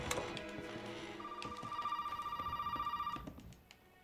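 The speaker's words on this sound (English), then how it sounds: "The phone will ring and I have to answer the phone." In the Resident Evil 7 video game, a telephone rings with a warbling, rapidly pulsing electronic bell tone over low eerie ambience, rising clearly in the middle and then cutting off abruptly.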